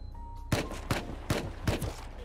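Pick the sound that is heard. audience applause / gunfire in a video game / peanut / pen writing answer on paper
gunfire in a video game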